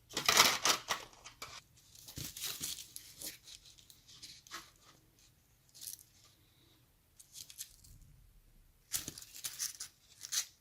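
Knife sawing through a loaf of homemade bread with a slightly burnt crust, crackly crunching strokes in uneven bursts with quiet pauses between, close and fairly faint.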